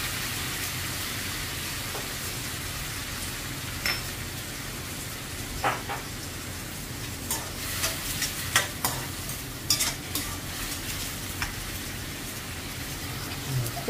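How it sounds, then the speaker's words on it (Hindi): Chopped tomatoes frying in oil in a pan, a steady crackling sizzle with occasional scrapes and clicks of a spoon stirring, close and continuous with no talking. "अब इसे हम अच्छे से भून लेंगे"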